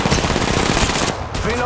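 Rapid automatic gunfire in Apex Legends Mobile, a dense loud rattling stream of shots that continues for over a second and then thins, with in-game voices faintly underneath.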